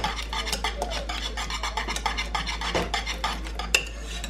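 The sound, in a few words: stirring lemon zest mixture in a bowl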